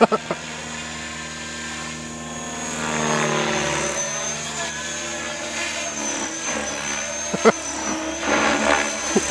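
An Align T-REX 600ESP radio-controlled helicopter flies nearby, its rotor and motor giving a steady buzzing whine with shifting pitch, loud and continuous, with a few sharp clicks near the end.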